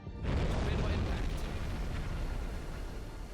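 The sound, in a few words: torpedo hitting a ship, Silent Hunter 5 video game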